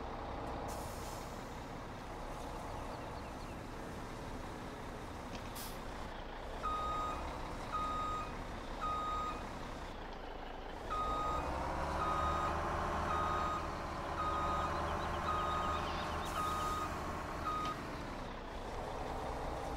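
Mack truck in Farming Simulator 17 reversing, a run of evenly spaced high beeps over a low idling diesel rumble and hissing air, steady and moderately loud, with no voices.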